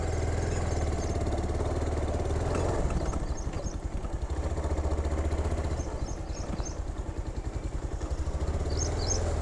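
A motorcycle engine runs close by, holding a steady, throbbing mid-pitched rumble that rises and dips slightly in intensity throughout, with no voices.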